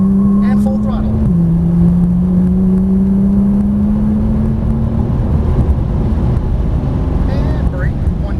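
A Porsche 997 Turbo on a racing circuit goes to full throttle, a loud steady engine note climbing in pitch after a brief shift, with a voice talking over it.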